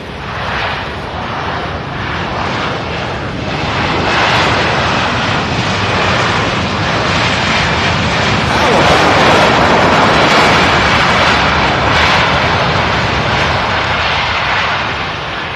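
A fixed-wing airplane passes loudly at SDF airport in Louisville, Kentucky, its broad engine roar building and holding steady at close range for about fifteen seconds with no talking.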